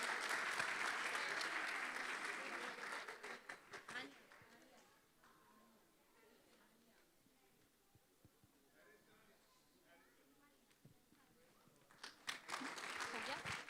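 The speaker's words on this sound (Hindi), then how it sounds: "तालियां बहुत कम है, बच्चों ने बहुत मेहनत की है, तालियां इससे ज़्यादा होनी चाहिए।" An audience at a Sunday school Christmas celebration applauds a children's performance: loud clapping at first, fading to a quieter lull with scattered sounds, then swelling again near the end.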